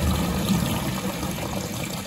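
Toilet cistern fill valve with a pressure reducer refilling, a steady close rush of surging water running unbroken at even loudness throughout.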